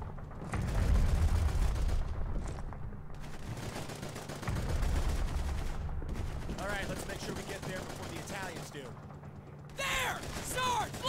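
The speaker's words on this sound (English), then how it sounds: "Covering fire!" Covering gunfire in Call of Duty 2 on a Sicilian beach landing, loud sustained bursts of rifle and machine-gun fire with booming impacts, mixed with shouted voices and battle clatter.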